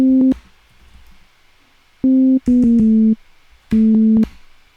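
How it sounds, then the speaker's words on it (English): Deep, solid FM synth bass from Ableton Live playing a short eighth-note pattern: clipped, buzzy tones in bursts with gaps between, close and loud with no voices. "just get a very sort of deep, solid bass sound for an 8th note pattern"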